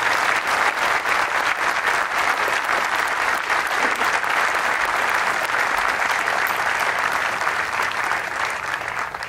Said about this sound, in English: Please join me in another round of applause for these great soldiers